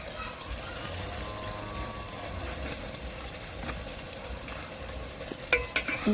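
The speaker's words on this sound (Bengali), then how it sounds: "ভালো করে নাড়াচাড়া দিয়ে নেবে" Chicken with turmeric gets stirred in a handi pot, a soft continuous scraping and sizzling with a few sharper knocks near the end, close but quiet.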